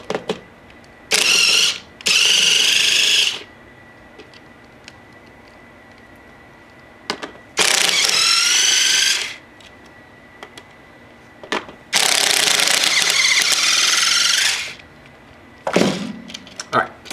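Ratcheting wrench loosening 12 mm nuts on an Akai MPC Renaissance drum machine, several bursts of rapid close clicking separated by quiet pauses.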